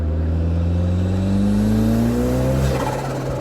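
A classic car's engine pulls hard, its deep drone rising steadily in pitch, heard loud and close from inside the car on a dry road.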